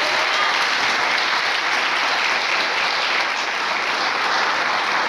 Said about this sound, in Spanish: ¿Cuánto le puede dar fuerte aplauso al Señor?